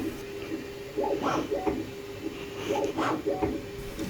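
A 3D printer runs with quiet whirring stepper-motor sounds in short bursts, rising and falling as it moves back and forth, with a steady faint hum underneath.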